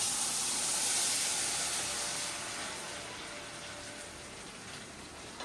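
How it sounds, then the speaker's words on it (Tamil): Steady soft hissing and fine bubbling of butter simmering in a pan as it melts into ghee, slowly easing down in level, with no talking. "வெண்ணெய் அப்படியே லைட்டாக கரைஞ்சி நல்லா பொங்கி வரும்"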